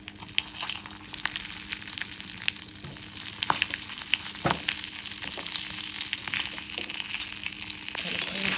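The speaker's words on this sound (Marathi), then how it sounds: "तेलामध्ये परतून घ्यायचे, चटके वगैरे घ्यायचे" Cumin, asafoetida, mustard seeds and curry leaves frying in hot oil as a tempering for stuffed capsicum, giving a steady close sizzle and crackle with a few sharper pops throughout, no voices.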